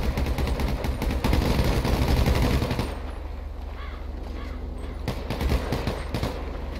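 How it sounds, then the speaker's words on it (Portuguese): Rapid automatic gunfire in the video game GTA V during a roleplay shootout around a police car: a dense, loud barrage for about three seconds, then scattered sharp shots over a lower background. "Tiro, muito tiro."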